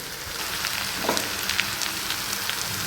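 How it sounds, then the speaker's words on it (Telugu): Onions frying in a pan for a bitter gourd curry, a continuous moderate sizzle with faint crackles and pops scattered through. "కొంచెం ఫ్రై అయినాయి కదా ఆనియన్స్"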